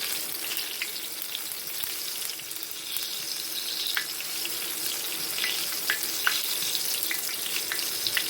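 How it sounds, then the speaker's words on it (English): Steady crackling sizzle of green tomatoes frying in a pan, close and continuous, with small pops scattered throughout and no talking. "Meanwhile, my tomatoes are frying merrily, as you can hear."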